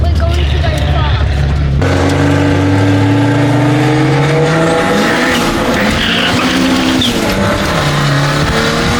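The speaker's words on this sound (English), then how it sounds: "We're not racing, we're just driving around having fun, doing laps." Car lapping a race track, engine note climbing and dropping through gear changes with tire squeal and skidding, loud and close, with voices talking over it.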